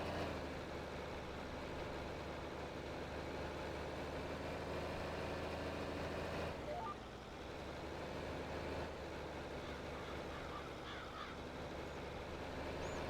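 A John Deere 4020 tractor with 4WD in Farming Simulator 22 labours hard across tilled soil. Its engine drones loudly and steadily throughout, with a brief dip in the middle and no talking.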